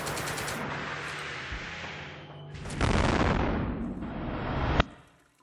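An explosion sound effect hits as a heavy, rumbling blast. A second louder surge follows and fades into a rolling tail before ending in a sharp final crack.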